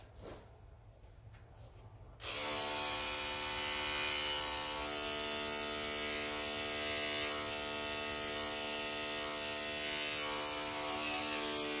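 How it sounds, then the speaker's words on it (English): Electric hair clipper switches on after a quiet moment and buzzes loudly and steadily while trimming up the neck area, a close, continuous motor drone with no talking. "I take my clipper and I go up into this neck area"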